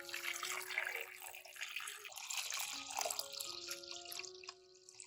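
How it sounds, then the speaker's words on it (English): Water pours steadily over ginger pieces in a small container, a continuous splashing trickle with faint ringing tones, close and fairly quiet. "Then pour water over the ginger."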